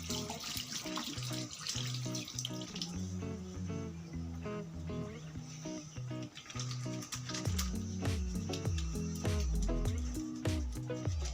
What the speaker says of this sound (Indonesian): saya cuci tangan dulu ya